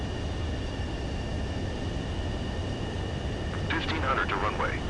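A jet fighter on landing approach in Ace Combat 7 gives off a steady, even engine drone with a faint high whine. A short radio voice cuts in near the end.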